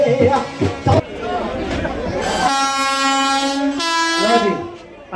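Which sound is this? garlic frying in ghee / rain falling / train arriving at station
train arriving at station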